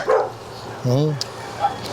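A Bully XL dog lets out one brief, loud bark with a rising-and-falling whine, close to the listener. Short bits of human voice come before and after it.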